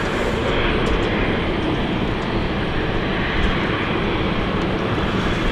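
An airplane arriving at London City Airport produces a loud, continuous rumbling roar that holds steady and close for the whole stretch.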